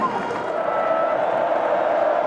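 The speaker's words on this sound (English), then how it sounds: "Crowd is on its feet and making noise." A large stadium crowd at a Texas Tech vs Texas A&M college football game roars and cheers on its feet, a dense sustained wash of noise from across the stands, heard under talk.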